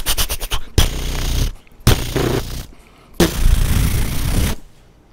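A voice mimics machine gun fire, first a quick stutter of short bursts, then several long, harsh, hissing sprays separated by brief pauses, loud and close.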